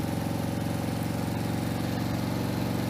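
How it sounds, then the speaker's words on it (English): A steady mechanical hum and buzzing whine from the water pump of a Harley-Davidson Milwaukee 8 motorcycle, running continuously and close up, with no talking. "And that water pump is always working, even when the bike isn't."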